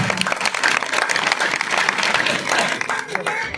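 Hearty applause from the audience at a Hindi poetry recital, a kavi sammelan in Udaipurwati, Rajasthan, with dense clapping from a large hall filling the clip and a voice faintly heard through it.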